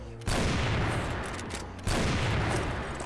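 Two long bursts of automatic gunfire in the shooter game CrossFire, loud and dense rapid volleys, the first cutting off briefly before the second begins.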